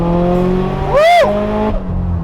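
A 730-horsepower Subaru STI with torque-vectoring drivetrain accelerates, its loud close engine note rising sharply in pitch to a screaming peak before dropping back to a steady roar.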